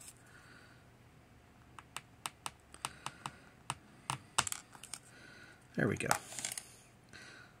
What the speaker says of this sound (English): you basically want to cut straight down on this just like that and make it a nice straight cut